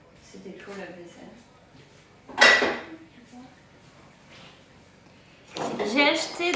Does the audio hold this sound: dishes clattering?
yes